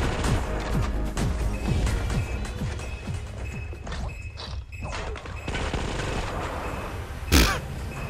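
Machine gun and pistol fire in the VR shooter game Sweet Surrender, rapid bursts of sharp shots with crashing impacts throughout, loud and close, ending in a heavier blast.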